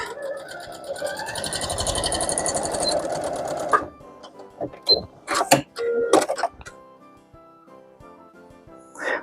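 Sewing machine stitching a gingerbread pillow: a steady close mechanical whir for several seconds, then stops, followed by fabric handling clicks and rustles.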